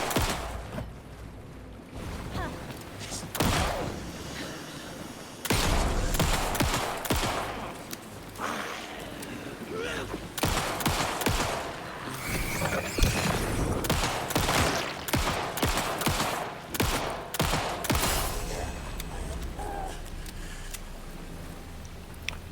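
Bursts of gunfire in the survival horror game Alan Wake 2, loud and close, with repeated volleys and scattered single shots over a low rumbling ambience, no talking.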